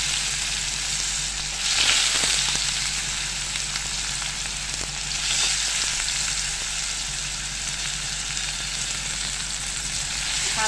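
Chopped onion sautéing in hot oil with cumin, turmeric and asafoetida in a pan, a steady close sizzle throughout with a couple of brief louder bursts as the pan is stirred.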